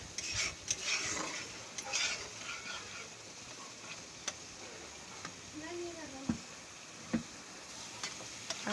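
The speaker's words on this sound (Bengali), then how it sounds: "আবারও মশলাটা ভালো করে কষে নেব।" Masala cooked down with Amul milk in a pan, with scattered spoon scrapes, clinks and taps against the pan over a quiet background, and faint talk now and then.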